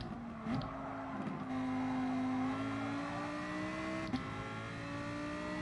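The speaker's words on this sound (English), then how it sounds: "the sounds of the cars are based on the cars, so they are realistic, real sounds" Race car engines in the driving game GT Sport hum steadily with a gliding pitch that rises through gear changes, moderately loud and continuous, with a brief bump near the end.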